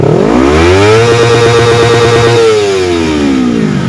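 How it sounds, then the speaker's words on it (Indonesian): A motorcycle with a stock, unremapped ECU starts and idles, its engine note rising in pitch to a steady revving hum and then settling back down. The sound is loud and close, with no one speaking. "Kita coba hidupkan motornya ya. Kita coba tes berapa dia RPM standarnya."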